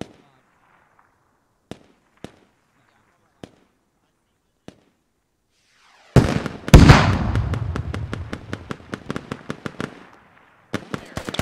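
Gunfire in the tactical shooter Squad comes as sparse single pistol shots, then a heavy burst of rapid automatic fire with rolling echoes that thins out, followed by a few more quick shots.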